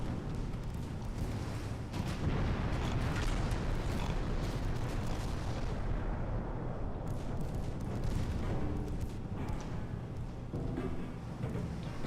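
Battleship main guns fire in Ultimate Admiral Dreadnoughts during a German versus Italian naval duel, a dense, continuous rumble of heavy booms and blasts rolling on without pause, loud and unbroken by voices.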